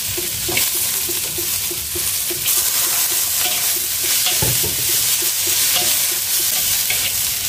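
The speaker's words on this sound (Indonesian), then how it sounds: "Lanjut saya masukkan buncis yang sudah saya cuci ya." Washed green beans stir-fried with spices in a pan: steady loud sizzling with repeated scraping and stirring strokes of a utensil throughout, no talking.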